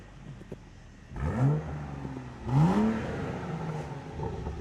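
A 2014 BMW 235i engine revs twice, in normal mode and then in sport mode, each a rising harmonic sweep over a low idle, with a faint light pop at the end of the second rev.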